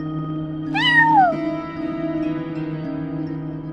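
A cat in the Genshin Impact game gives a single drawn-out, falling meow over a constant droning musical background with no talking.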